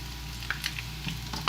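Crispy noodles pan-frying in oil after being flipped, a continuous soft sizzle with small pops and crackles close by, no talking.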